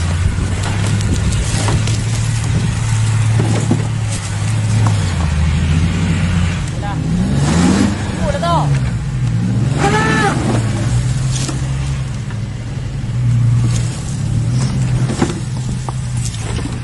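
An overloaded diesel truck hauling sugarcane strains and labors, its engine drone rising and falling continuously, loud and close, with people talking over it.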